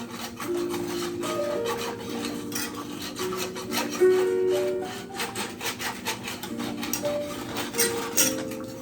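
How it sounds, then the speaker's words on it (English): Spoon scraping the bottom of a pan while making sausage gravy with bacon bits, a close, steady rasping and rubbing in repeated strokes with no talk. "Scrape that bottom till you feel that bottom scraping out."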